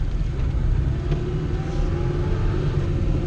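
A Peugeot 104 Style Z idles with the choke partly engaged, a steady, close, low rumbling engine drone with no revving and no one speaking.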